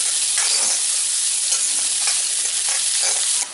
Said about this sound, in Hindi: हमने इस प्याज को बहुत ज़्यादा नहीं भूनना है, हल्का ब्राउन कलर ही रखना है